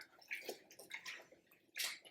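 A wool sweater is handwashed in a basin of water, making intermittent soft sloshing and splashing bursts, close and quiet, with no talking.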